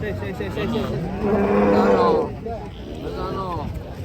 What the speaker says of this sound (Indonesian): Ada sapi unik guys.